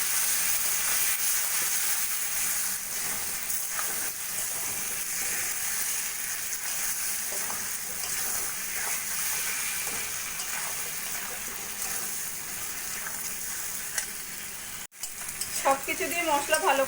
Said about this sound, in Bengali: দিয়ে ভালো করে মশলাটা আমি কষিয়ে নেব।